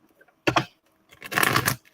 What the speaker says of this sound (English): So we're shuffling the cards.